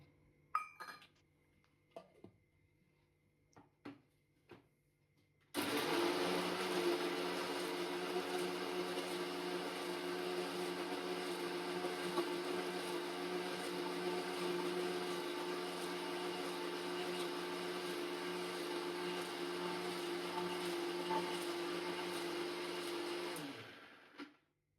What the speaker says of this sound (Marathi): आणि आता मी टमाटा बारीक करतेय